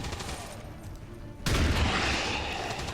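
Suppressive gunfire from the XCOM Long War of the Chosen strategy game: after a quiet lead-in, a sudden loud burst of automatic fire erupts and keeps rattling to the end, close and heavy.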